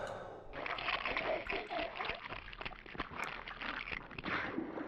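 A monster in Resident Evil 2 slurps up water in the game, a continuous wet sloshing, gurgling rush at moderate level, steady for several seconds.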